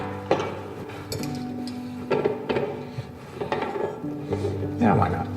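Champagne glasses, wine glasses and small cylinder vases being handled and set down: a few scattered clinks and knocks sound close by, under a person talking throughout.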